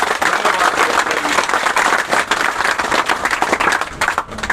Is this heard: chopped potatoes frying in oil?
no